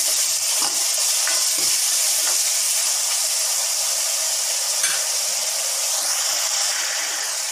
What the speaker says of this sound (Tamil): இப்போ இந்த வெங்காயத்தை வதங்கிறதுக்காகவும் இந்த தொக்குக்கு தேவையான அளவு உப்பு எப்படியும் சேர்த்துடுவேன்